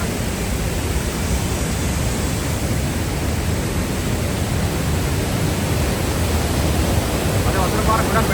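Rushing river water in Martvili Canyon, Georgia, swollen after rain, fills the scene as a loud, steady broadband roar with no break throughout.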